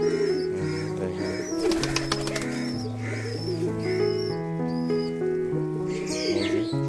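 Pigeons coo to each other in a loft, a mated pair calling back and forth in low, rolling, repeated tones that hold steady across the whole stretch.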